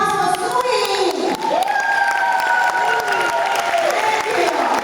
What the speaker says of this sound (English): Can we all give a big round of applause for Sui?